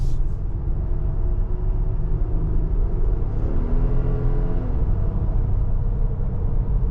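2024 Nissan Pathfinder Rock Creek Edition accelerating: a steady low engine rumble with a rising tone in the middle as revs build, heard from inside the cabin with no talking.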